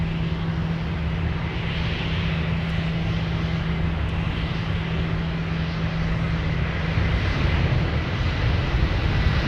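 Delta jet airliner departing Minneapolis airport bound for Paris, a steady broadband engine roar with a low sustained hum, loud and continuous throughout without talk.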